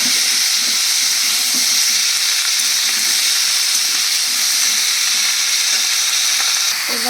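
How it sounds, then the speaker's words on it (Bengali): Drumstick, potato and tomato curry sizzles steadily in a hot pan while being stirred, a dense continuous frying hiss with soft scraping stir sounds throughout, close and loud, no talking. "এবার নাড়াতে হবে।"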